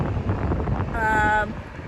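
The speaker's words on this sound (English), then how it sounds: "it's really windy. I'm quite high up as well" Strong wind buffets a high-up spot in Mindelo, São Vicente, roaring steadily across the microphone, with a brief tonal whine partway through and a voice faint underneath.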